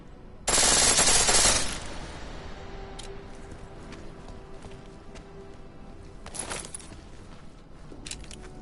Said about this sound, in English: The pistol in full auto will take down targets fast